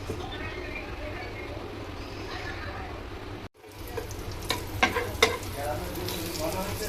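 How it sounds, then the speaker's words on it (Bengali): Eggplant pieces with stems still on, seasoned with turmeric and chili, fry in a pan with a loud continuous sizzle close up. The sizzle cuts out briefly, then returns with a few clinks and stirring sounds. "বেগুনটাকে আমি ভালো করে ভেজে নেব"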